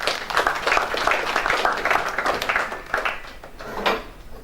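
Audience applause at a school event, a dense wash of many hands clapping continuously and fairly loud, swelling slightly near the end.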